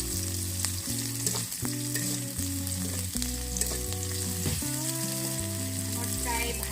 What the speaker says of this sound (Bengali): আমি ভালো করে ভেজে নিচ্ছি।